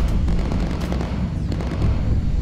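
Gunfire and explosions from the World War II bomber game Bomber Crew form a dense, continuous low rumble of blasts and shots that runs without a break and with no one speaking.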